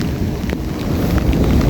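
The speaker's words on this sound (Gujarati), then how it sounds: "અત્યારે તો હાલ વરસાદ છે એટલે જોઈ લો" Steady rain pours over a farm field of tall maize plants, with a low rumbling undertone like distant thunder running throughout, continuous and fairly loud with no talk.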